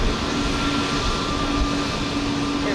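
All Nippon Airways jet airliner bound for Tokyo at Houston Intercontinental Airport, a steady broadband engine roar with a faint whine, continuous and fairly loud from a distance.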